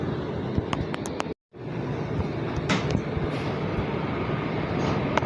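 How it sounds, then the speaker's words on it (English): An R179 Z skip-stop subway train runs toward Jamaica Center with a steady, loud rumble and hiss, one brief dropout near the start, and a few clicks and rattles over the continuous noise. "This is a Jamaica Center bound Z skip stop train."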